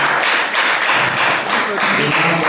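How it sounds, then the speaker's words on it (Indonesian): An audience clapping for a presenter, a dense, steady patter of many hands at close range, with a voice briefly audible over it. "kita beri tepuk tangan kepada penyaji yang telah menyampaikan"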